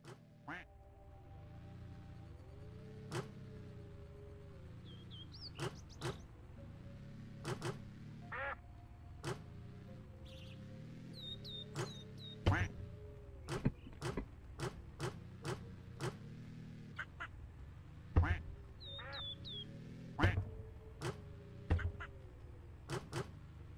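Recurring duck quacks in the video game Park Up Car pop up at irregular intervals among sharp clicks and taps, set over a steady looping game hum.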